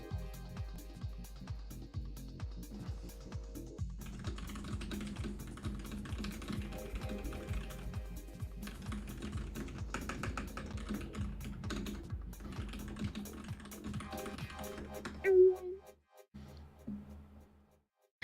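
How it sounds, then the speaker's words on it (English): Steady rapid typing on a computer keyboard, close and fairly quiet, with irregular key clatter running almost continuously before a brief pause near the end. "I guess I should read you what I'm typing here."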